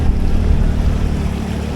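A motorbike pushing through floodwater, with a steady rumble and rushing, sloshing water close by, loud and continuous throughout.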